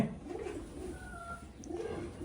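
Lakka pigeons, a fancy breed with newly hatched young, coo softly in soft, rounded repeated calls, close by and fairly quiet, with a faint thin whistle-like tone in the middle.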